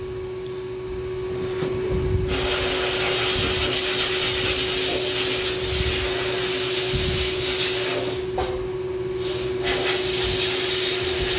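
A sustained hiss of compressed-air spray, steady with a constant tonal hum, blasts paint off the handles of lead casting molds, loud and close throughout.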